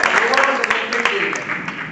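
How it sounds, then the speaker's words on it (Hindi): Loud applause for a student in a group gathering, a brief dense burst of many hands clapping close by, with voices mixed in. "जोरदार ताली दे स्टूडेंट के लिए"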